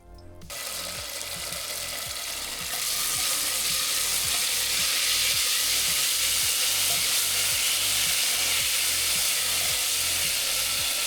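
Garlic and ginger paste fries in a pan with a loud, steady sizzle that swells after a couple of seconds. Under it runs a rhythmic low thumping pattern, with no voices.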